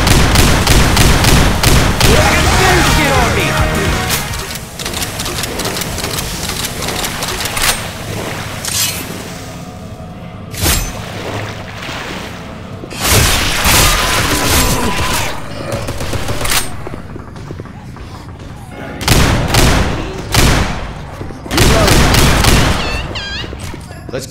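Shotgun blasts in the Left 4 Dead 2 Warcelona map: loud, repeated booming shots in irregular bursts, densest at the start and again toward the end, over continuous game noise.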